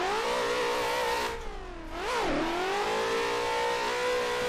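Justin Pollock's Mustang in the Assetto Corsa racing game revs hard, its loud engine note climbing, dipping briefly, then surging through a sharp rise and fall before settling into a steady high drone.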